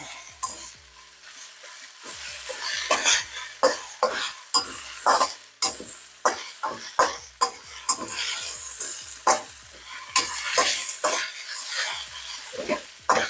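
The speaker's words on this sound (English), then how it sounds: "This is just going to get mixed up and heated a little bit." Pork strips stir-fried with cilantro and green onions, a spicy pork and celery dish, stirred and tossed in a pan: repeated scraping strokes and utensil clatter over a steady sizzle, close and fairly loud, with no talk.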